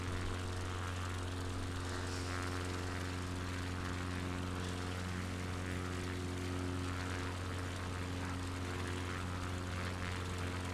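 A small propeller plane takes off from a large airfield with its engine at full throttle, a loud steady drone with strong harmonic tones that holds without a break and with no talk.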